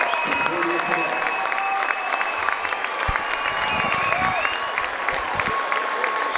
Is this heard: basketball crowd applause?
yes